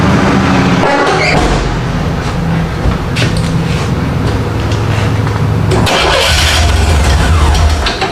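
An engine on the car nicknamed the Firepigeon cranks, catches and keeps running with Seafoam fed through the intake, a loud, close, steady idle rumble with a brief stumble and rev partway through.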